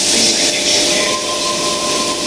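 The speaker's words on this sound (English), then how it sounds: "T129 leading a service to Bondi Junction, departing platform 2." Sydney train T129 pulling away from platform 2 at Kings Cross on a service to Bondi Junction, a steady loud hiss and hum of traction motors and rolling stock with a thin whine running throughout.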